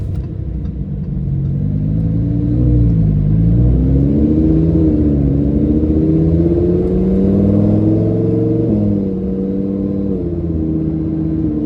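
A 2015 Lamborghini Huracan LP610-4 engine revs loud and close from inside the car, its note climbing and falling through repeated surges of acceleration and gear changes, with no talking.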